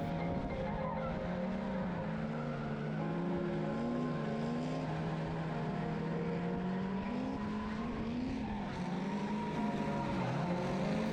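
Race cars running three-car tandem on a track, including a 350Z, a constant loud engine roar with wavering pitch as the cars slide and chase each other, no talking.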